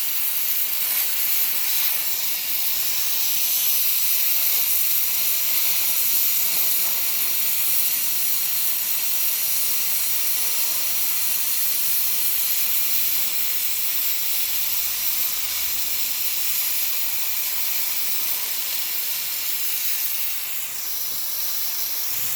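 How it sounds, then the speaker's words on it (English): Steam vents from an over-pressure release in a loud, continuous broadband hiss that holds steady and close for the whole stretch, with no voices. "It's releasing steam, but you cannot sit here."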